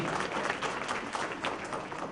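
An audience at the inaugural session of a Rajasthan health summit applauds to welcome the chief guests, a steady wash of clapping from many hands heard alone for the whole short stretch.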